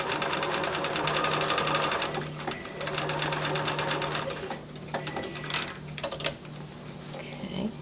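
A sewing machine runs steadily, stitching diagonal seams across a gridded square of fabric to make half square triangles, with a brief pause mid-seam before the motor hums on again up close.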